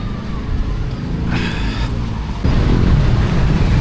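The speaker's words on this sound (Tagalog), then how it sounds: "As usual, traffic." Steady road traffic on a busy street, a continuous low rumble of passing cars and heavier vehicles that swells louder partway through, with a brief higher hiss like an air brake.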